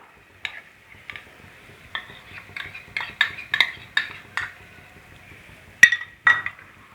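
Cashew paste being stirred into chicken gravy in a pan, heard as scattered metallic clinks and scrapes of a spoon against the pan in irregular bursts, close and moderately loud with no talk.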